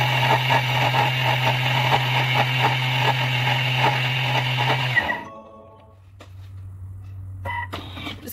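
A Thermomix runs at speed 9 milling sugar into icing sugar, a loud, steady grinding roar with a low motor hum that stops abruptly after about five seconds, followed by faint motor hum and small clicks.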